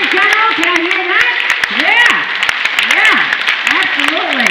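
Audience at a Trump 2020 political rally applauds steadily with whoops, whistles and rising cheers layered on top, a dense, continuous crowd noise filling the whole stretch.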